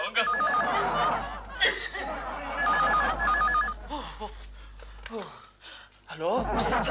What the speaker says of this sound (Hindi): घंटी टेलीफोन ने बजाई है